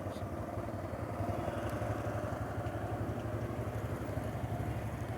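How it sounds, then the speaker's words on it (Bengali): Motorcycle engine running while riding along an empty city road, a steady low rumbling drone, close and continuous, with some speech faintly present. "ফাঁকা রাস্তায় বাইক অবশ্যই সাবধানে চালাবেন"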